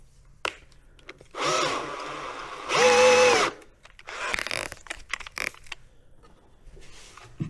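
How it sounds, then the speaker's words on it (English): A power drill fitted with a 1/8 bit drilling into an arrow stand: two bursts of loud motor whine, the second higher-pitched, surrounded by clicks and handling clatter. "All right, we'll go up a drill size"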